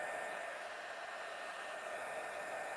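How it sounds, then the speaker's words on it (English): A powerful 850-watt hair dryer blowing steadily during a salon blowout, a loud, even broadband rush that stays constant without pause and with no voices over it. "this dryer is super powerful, I really don't want this to heat up on her scalp. It is 850 watts."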